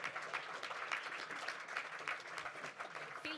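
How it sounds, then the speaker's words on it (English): A standing audience gives a speaker applause at a conference on pandemic, conflict and climate change, a steady, fairly faint patter of clapping that fills the moment without a break. "It feels very good also to have standing applause, it does."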